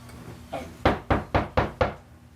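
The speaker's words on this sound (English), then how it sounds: "Knock, knock, knock." Knocking on a door in a reading of Macbeth Act II: a faint first knock, then four loud, sharp raps in a steady rhythm, close by with no talking.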